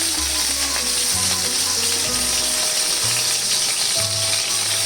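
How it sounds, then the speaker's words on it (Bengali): Bombay duck paturi parcels fry in hot mustard oil, giving a loud, steady, continuous sizzle that fills the whole stretch with no talking. "তেলটা গরম হয়ে গেলে একে একে পাতুরিগুলোকে আমরা তেলে দিয়ে দেবো"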